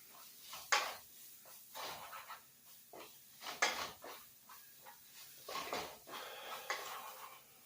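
Chili mac and cheese stirred in a pot: a utensil scrapes and knocks against the pot in irregular strokes, fairly quiet and close, with no talking.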